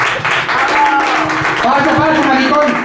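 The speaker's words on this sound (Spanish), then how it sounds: "un fuerte aplauso para Pirata del Gorro y acompañante" An audience at a Spanish comedy club show claps for an arriving guest, a busy wash of clapping running under loud talk and laughter, fairly close and strong for the whole stretch.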